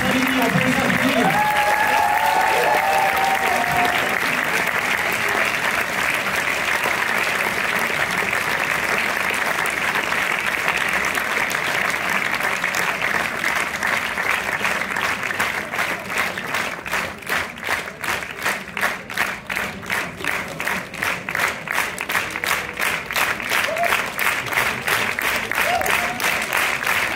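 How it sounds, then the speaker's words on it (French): A cinema audience gives long, dense applause for a film cast, with a few voices and cheers early on, and the clapping later settles into a rhythmic, unified beat. "On peut les applaudir."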